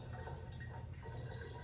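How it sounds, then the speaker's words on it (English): Bottled water poured into a tequila bottle for a cocktail, a soft close trickling and gurgling stream running steadily for under two seconds with no talking. "I'm gonna take a little bit of bottled water and just pour it right into"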